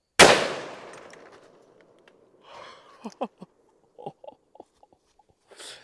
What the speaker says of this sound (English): I can't hit anything with this gun